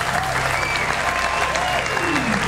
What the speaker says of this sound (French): Est-ce que déjà on peut applaudir très fort, s'il vous plaît, pour KJ Vara?